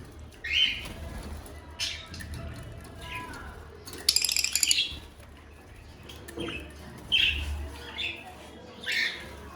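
Pet birds, including cockatiels, squawk and chirp in short, scattered bursts, some harsh and shrill, close by, with a faint clinking in between.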